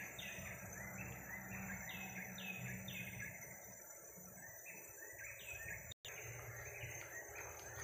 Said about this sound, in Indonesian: Ini burung perenjak.